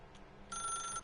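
Telephone bell ringing in the video game The Stanley Parable, a bright electronic ring that cuts in halfway through and sustains steadily to the end, clear and alone against a quiet background.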